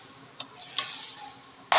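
Crushed garlic sautéing in a pan for garlic butter crabs, a steady close hiss of frying with a few sharp stirring scrapes and clinks of the utensil against the pan.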